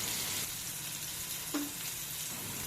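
Bombay duck fish frying crisp in hot oil: a steady, soft sizzle and crackle that continues throughout, with one brief, slightly louder pop partway through and no voices.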